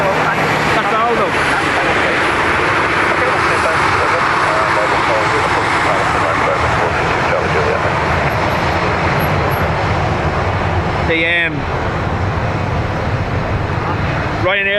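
A Ryanair jet airliner with winglets lands at Dublin Airport, its engine roar loud and continuous throughout, with traffic-like rumble below and a brief whining tone near the end; someone talks briefly over it.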